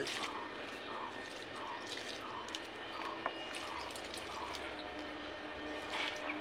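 A small amount of water trickling and dripping onto a potted plant, a soft steady flow with faint drips, quiet and close, with light background noise.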